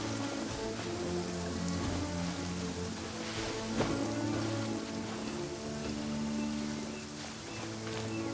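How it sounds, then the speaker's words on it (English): Steady rain pours in Mondstadt in Genshin Impact, a dense, even hiss of falling drops that runs throughout over soft sustained background tones. "Rain. If only you could cleanse the corrupt souls of this world."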